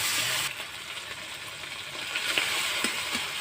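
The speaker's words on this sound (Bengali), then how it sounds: "আদা বাটা এখন একটু কষিয়ে নেবো আমি এইভাবে।" Ginger paste and chopped tomato sautéing in hot oil make a broad, hissing sizzle with a few sharp crackles and clicks of stirring scattered through it.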